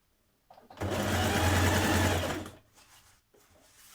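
A sewing machine runs in one continuous burst of about two seconds while stitching an invisible zipper on evening wear, close and loud, with quiet handling noises before and after.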